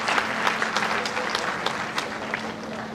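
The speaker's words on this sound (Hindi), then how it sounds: "एक बार जोरदार तालियों के साथ स्वागत।" Loud, dense applause from a crowd at a public event for the PM Vishwakarma Yojana, steady clapping throughout with a faint low hum underneath.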